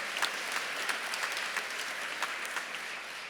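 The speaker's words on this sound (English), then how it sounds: "that deserves an applause." An award-ceremony audience claps steadily for a shared win at a game awards event, a sustained, moderately distant wash of applause with no talk over it.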